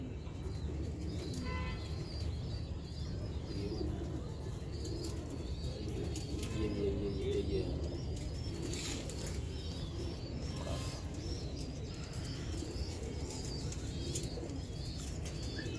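Pigeons, including a grey bird, murmur and coo in a loft amid steady background noise, with scattered clicks and occasional wing flutters throughout, faint and continuous.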